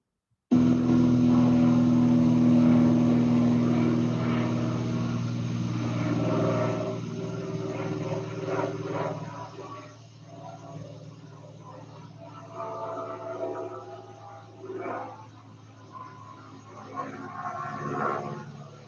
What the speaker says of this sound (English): a audio file of an airplane over my house